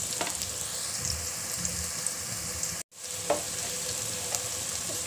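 Chili powder, turmeric, salt and fried golden onions sizzle steadily in a pan as chicken feet are cooked, a close crackling hiss with one brief break, and no talk.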